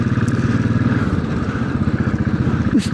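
A Royal Enfield Classic 500 motorcycle being ridden, its single-cylinder engine a close, loud, steady thumping beat with wind rush and no talking.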